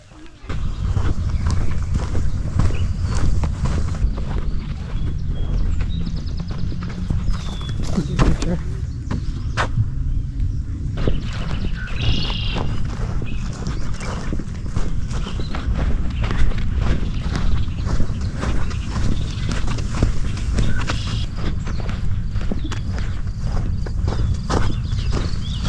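Footsteps crunching over a sandy nature trail near Oscoda and Tawas, Michigan, a steady walking rhythm heard close up under constant wind and handling noise, with voices talking.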